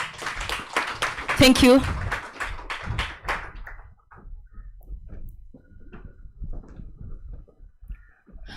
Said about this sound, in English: kindly let's clap for them as they leave the stage